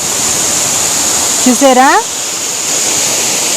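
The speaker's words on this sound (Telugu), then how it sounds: "ఎంతో బాగుంది వాటర్ ఫాల్, చాలా బాగుంది." A waterfall near Kuntala Falls in Telangana gives a steady, full roar throughout, with a brief spoken voice in the middle.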